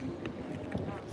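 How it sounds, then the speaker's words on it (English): Wind gusts buffet a microphone outdoors, making a steady, close, rumbling roar that stays loud throughout the short stretch. "the freaking wind just started blowing"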